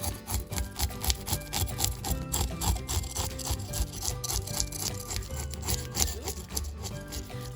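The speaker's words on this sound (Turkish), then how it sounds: "Öncesinde balığımızın hemen hızlı bir şekilde pullarını temizliyoruz" Scales being scraped off a large sea bream in a kitchen, a steady run of quick, rhythmic rasping strokes repeating close up without pause.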